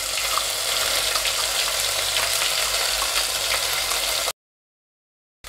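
A ground masala paste hits hot oil already crackling with cumin, mustard seeds and curry leaves, giving a loud, bright, continuous sizzle with faint stirring that cuts off abruptly near the end.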